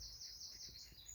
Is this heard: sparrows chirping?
yes